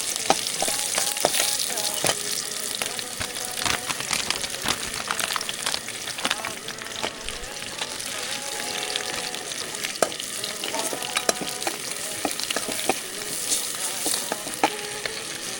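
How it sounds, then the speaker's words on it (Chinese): Fish sizzles and spits in a hot pan as it fries, steady crackling with sharp pops and the occasional scrape of stirring, loud and close throughout. "這個魚煎到一半，哎呀，挺火了，應該已經粘鍋了。"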